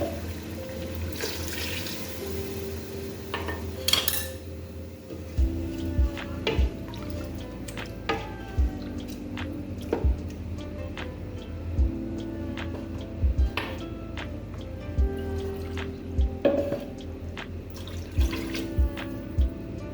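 Water is poured and drips onto chicken in a pot while making haleem, with steady splashing and dripping close by over a low background hum.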